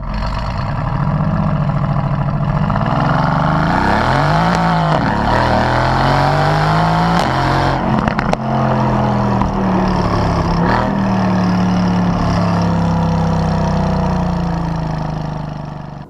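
A sports car engine revs hard and climbs through the gears, a loud, continuous growl with rising and falling pitch sweeps, brief crackles midway, then a long sustained pull before easing off at the end.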